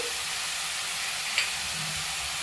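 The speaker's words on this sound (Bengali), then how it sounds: "এবার আমি ভালো করে কষিয়ে নেব।" Chicken coated with salt, chilli, coriander, turmeric and garam masala sizzles steadily in a hot pan. A constant close frying hiss runs throughout, with one brief scrape partway through.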